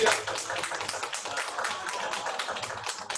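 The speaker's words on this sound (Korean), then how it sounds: "큰 박수 부탁드리겠습니다" An audience at a career talk concert claps after a lecture ends, with close, crisp individual hand claps forming a lively, uneven round of applause.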